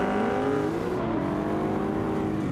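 Race car engines of a BMW and a Mustang at Mondello Park, a loud, continuous roar with rising and falling revs as the cars accelerate together, close and steady throughout with no talking.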